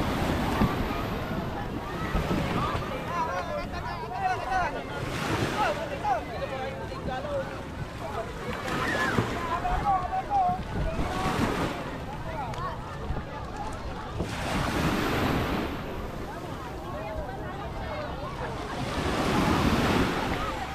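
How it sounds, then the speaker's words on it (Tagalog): Rough ocean waves surge and crash in repeated swells at a beach, with gusty wind buffeting the microphone and voices talking underneath. "Ang lakas po ng alon. Grabe."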